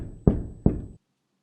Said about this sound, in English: You need to get a door knocker.